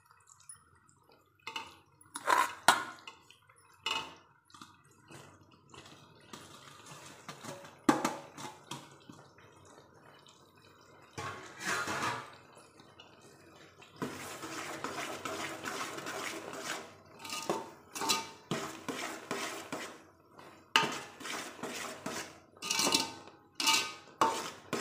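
A sweet mixture of gram flour and coconut is stirred in a pan with a spoon, giving irregular scraping, clinking and sizzling bursts that come and go close up, with no voices.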